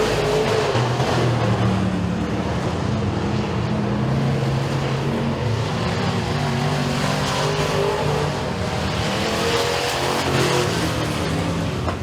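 Pro Stock race cars roar through a heat race at Eriez Speedway, a dirt oval, with layered engine drones rising and falling continuously as the pack passes, loud and steady throughout.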